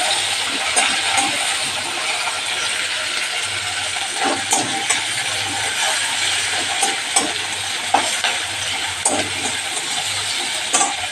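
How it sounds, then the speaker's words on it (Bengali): Onion and tomato fry together in a wok of oil with whole cumin seeds and dried red chillies, a steady nearby sizzle punctuated by repeated scraping stirs, no voices. "পেঁয়াজ আর টমেটোটা একসাথেই দেবো"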